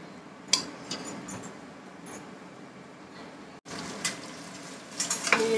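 Mutton for a curry fries in a pan with a steady low sizzle, broken by a few clinks and scrapes of a utensil and a short gap midway. No one speaks.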